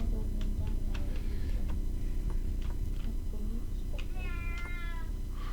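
A cat meows several times in the video game Shogo, short, scattered cries over a low steady hum, with a few faint clicks in between.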